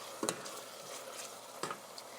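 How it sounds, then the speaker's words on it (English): The garlic-scented base for a stovetop seafood boil sautés quietly in a pot, a faint sizzle broken by two brief clinks or scrapes. "now you want to allow it to saute for a good 5 minutes"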